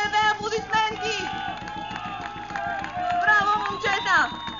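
A crowd claps for the third-place team at a Bulgarian amateur football forums league ceremony, steady rhythmic clapping under loud cheering and excited voices, with music or tonal noise running throughout.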